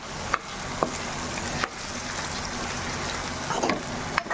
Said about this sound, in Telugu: ఇది కూడా 2 నిమిషాలు ఇలాగా ఆయిల్లో వేగనిద్దాము